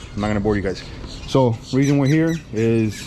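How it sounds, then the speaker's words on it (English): Birds squawk loudly in the early morning outdoors, several harsh harmonic calls in quick bursts, while someone talks over them. "sorry for the birds, early in the morning, they're doing their thing."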